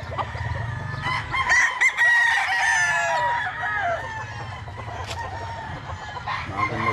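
Chickens and roosters on a farm crow and cluck close by, with several calls overlapping into a dense, continuous barnyard chorus and one rooster's crow rising above the rest.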